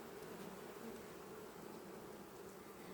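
Honeybees hum steadily at the hive in the evening, a faint, continuous, even drone with no voices over it.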